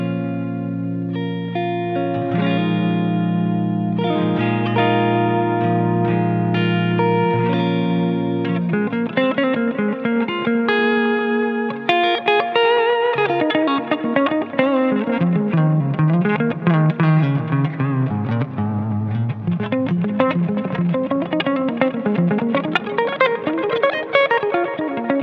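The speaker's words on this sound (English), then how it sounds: "And here's our neck pickup on clean sound." A clean electric guitar through the neck pickup plays sustained chords and then busier picked lines, bright and moderately loud with no talking over it.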